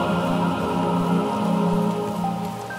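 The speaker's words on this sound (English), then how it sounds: "It's really raining now." Steady rain in the video game Submerged: Hidden Depths, a continuous dense patter that holds at an even level throughout with no voices, under a low tonal game-music bed.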